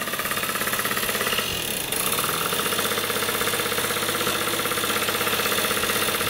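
An old, rare motorcycle engine runs steadily after a choked start, a loud close chugging, knocking rumble that holds throughout with a brief dip in the middle.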